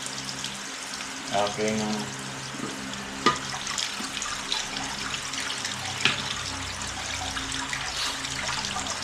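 Something is washed under a running water tap: a steady splashing stream with a few louder clinks and splashes, while a person talks over it.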